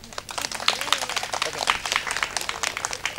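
An audience at a gathering claps in support, with scattered, uneven hand claps rising in short bursts while a voice talks over the applause.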